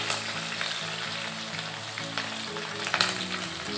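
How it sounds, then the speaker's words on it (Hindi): Onions and green chilies frying in a pan for upma, a steady close sizzle with occasional soft stirring scrapes throughout. "और अब इनको सबको भून लेंगे।"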